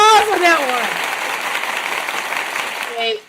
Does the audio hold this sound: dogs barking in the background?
no